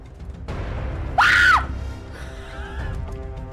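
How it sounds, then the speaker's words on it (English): A character in Silent Hill f lets out a single loud, piercing scream lasting under half a second, followed by a fainter, wavering cry over a low background rumble. "Why is he screaming like that?"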